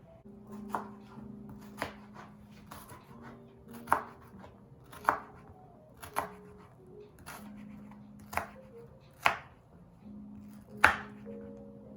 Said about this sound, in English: we'll cut our onion.